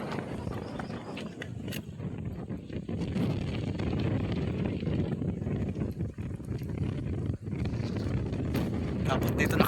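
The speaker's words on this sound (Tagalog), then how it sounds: "Parang bagyo ang hangin" Gusty, strong cold wind by the sea buffets the microphone with low rumbling roars that rise and fall, fairly loud and continuous.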